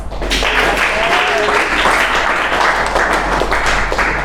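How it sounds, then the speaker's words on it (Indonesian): Loud, sustained applause from students in a classroom for group 3 after their discussion, many hands clapping densely and close throughout, with a brief voice audible early on. "Kasih applause."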